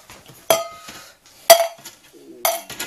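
Pieces of dried tuna jerky are tipped out of a dehydrator tray, giving three sharp clattering knocks spaced about a second apart, close and fairly loud.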